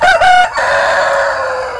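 A rooster on a chicken farm gives a loud, close crow, one sustained call that breaks briefly and then carries on to the end.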